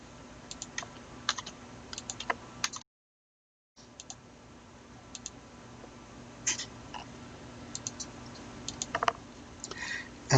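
Rapid clatter of typing a password on a computer keyboard while setting up an Azure domain controller, uneven bursts of key clicks with a short pause in the middle and a soft steady background hum.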